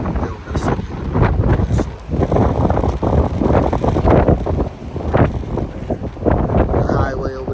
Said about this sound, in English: It's windy though. So if you can't hear me, you can't hear me.